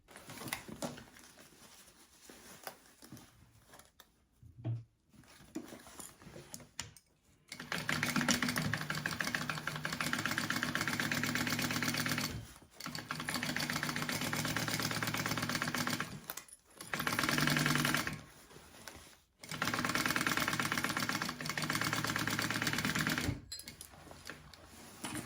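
A sewing machine runs through a bag lining seam in several long, steady bursts of rapid close clatter, separated by short pauses and preceded by softer handling noises.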